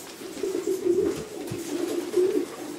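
Pigeons coo steadily in a breeding loft, a low throaty murmur of several birds overlapping close by, swelling and easing without pause.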